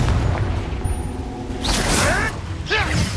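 Confringo fire spell explosion in the Hogwarts Legacy video game: a booming blast with a whooshing swell of fire, followed by a second rising, crackling burst, loud and close against game background noise.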